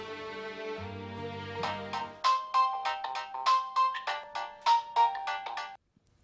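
A phone rings with a repeating electronic melody, about ten bright tones in a steady pattern, preceded by a sustained lower musical tone and cut off abruptly at the end. No voices.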